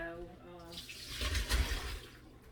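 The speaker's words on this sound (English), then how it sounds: "I'm gonna drain my potatoes" Water rushes and splashes steadily as soaked cut potatoes are drained in a kitchen, the pour swelling louder midway before easing off, with a faint tone fading out early.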